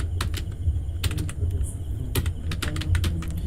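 Computer keyboard keys clatter in quick irregular bursts of taps, close and crisp over a low background hum.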